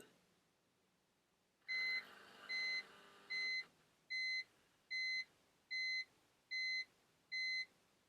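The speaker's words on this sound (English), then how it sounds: "your cluster is going to make some weird noises" A series of eight short electronic beeps from a BMW instrument cluster during coding sounds at a steady pace, the first one longer and noisier, with faint background hum between them.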